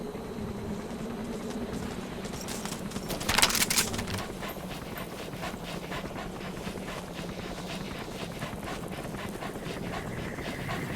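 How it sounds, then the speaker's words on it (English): Panting from a dog in Metal Gear Solid V, a steady rapid breathing rhythm held low under a constant wind-like game ambience, with one louder burst partway through. "Good dog."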